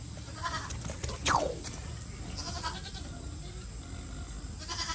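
Goats bleat from nearby on a farm, one sharp rising-falling cry standing out over fainter bleats and a low background rumble.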